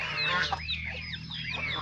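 Farm chickens cluck and squawk in quick, close, fairly loud bursts over a low steady background hum.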